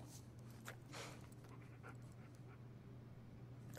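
A dog panting steadily in a video game, with a constant low hum underneath; the breathing is soft and fairly close, running for about four seconds without talk.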